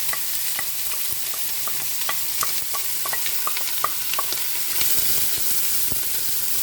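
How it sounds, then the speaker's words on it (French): Onions sauté in a cooking pot with a constant hissing sizzle, dotted with light stirring taps and clicks, close and steady throughout with no speech. "dans la cocotte, même chose, je mets tous les autres oignons"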